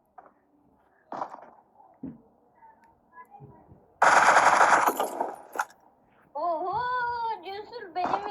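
Dense automatic gunfire bursts loudly in PUBG Mobile, a sustained rattle lasting about a second. People talk throughout, and later a high wavering voice or cry takes over.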